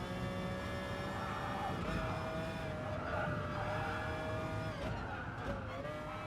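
Race cars roar through a GT Sport race, engines whining and shifting pitch as they accelerate through corners, with tires squealing, at a steady, moderate level.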